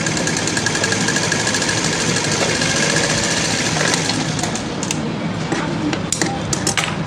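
A sewing machine stitches a plain blouse, a loud, rapid, steady mechanical rattle close by that runs throughout, then gives way to a few sharp clicks toward the end.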